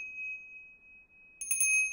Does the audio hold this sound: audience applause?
no